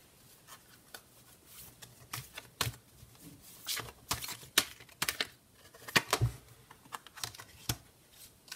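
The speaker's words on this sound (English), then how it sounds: "So I'm going to go ahead and shuffle these cards one more time." Oracle cards being shuffled by hand close up, making irregular papery flicks, taps and riffles that come in uneven bursts, quiet with no talk.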